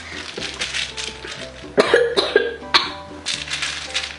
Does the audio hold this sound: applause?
no